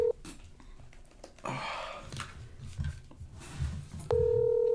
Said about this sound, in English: let's call Kevin and fire him